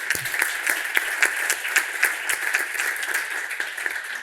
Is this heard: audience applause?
yes